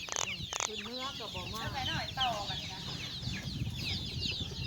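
Chickens cluck and squawk close by on a farm, with busy overlapping calls and a couple of sharp cries early on, over a low rustling background.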